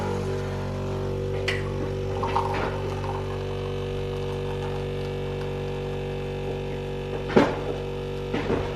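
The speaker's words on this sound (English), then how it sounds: "we're just literally putting the coffee in and dispensing it right into the milk" A Nespresso machine dispensing espresso into frothed milk, a steady low electric pump hum with faint trickling and a couple of brief louder gurgles near the end.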